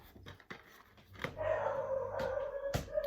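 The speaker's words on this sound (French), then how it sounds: "Excusez-moi pour les chiens qui aboivent derrière." Dogs barking in the background, a few sharp distant barks followed by a sustained howling whine, faint and somewhat far off, with sudden thumps and clicks nearby.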